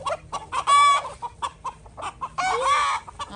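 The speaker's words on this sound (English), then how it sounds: "That's a new chicken." Chickens cluck and a rooster crows nearby, loud bursts of clucking and cackling with a long crowing call standing out in the middle and another toward the end.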